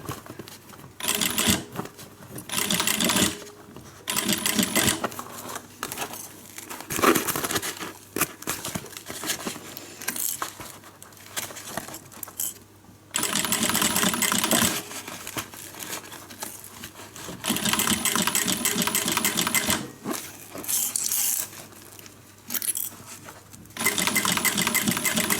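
A sewing machine stitches around the curve of a guitar-shaped handbag, its rapid mechanical chatter running loud and close in long bursts separated by short pauses.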